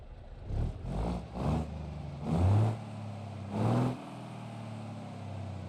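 A BeamNG.drive T-Series truck engine revs in a video game: four or five deep throttle blips rise and fall over a low idle, the last two longer and stronger, close and clear with no talk.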